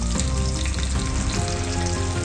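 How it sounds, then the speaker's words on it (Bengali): Mutton pieces frying and being sautéed in a pan with a spoonful of homemade garam masala, for an aloo mutton curry; a loud, steady sizzle runs throughout with occasional stirring scrapes, close up and without any talk. "এখন আমি মাংসগুলোকে ভালো করে এখানে কষাবো।"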